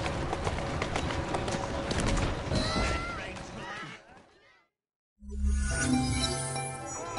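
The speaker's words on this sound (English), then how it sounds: "Who's a good horse? You are. That's a girl." Horse hooves clip-clop in a steady rhythm under voices and a busy mix of sound, then cut to brief silence before noisy activity resumes.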